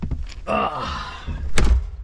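A teardrop camper's door closes with a dull, close thunk, and a voice speaks briefly before it.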